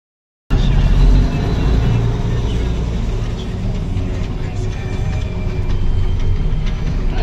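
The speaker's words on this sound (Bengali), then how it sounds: "ট্রেনে যাচ্ছে আমাদের পাশ দিয়ে।" A train near Kurseong on the way to Darjeeling rumbles steadily past at close range, a continuous loud roar with rattling, and voices are faintly audible under the noise.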